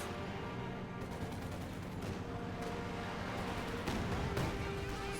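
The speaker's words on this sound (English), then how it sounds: "Good caddy barrage." Calliope rocket barrage in Company of Heroes 2, a dense, rumbling wall of rapid launches and explosions rolling on continuously, with sharper blasts near the end.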